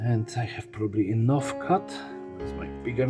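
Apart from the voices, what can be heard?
No everyday noise stands out behind the speech.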